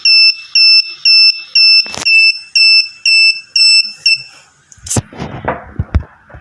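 An Arduino piezo buzzer beeps in a rapid, evenly spaced series of about eight shrill pulses, loud and near, then stops as clicks and handling noises follow.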